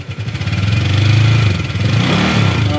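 Honda Click 150i scooter engine running and revving up and down during a TPS voltage check, close and fairly loud, a pulsing mid-pitched drone that rises, eases and climbs again.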